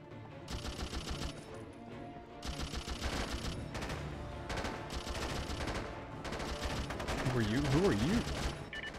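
Rapid bursts of helicopter machine-gun fire in the PS2 game SOCOM 3 U.S. Navy SEALs, several loud sustained volleys separated by short pauses, with a rising tonal whine near the end.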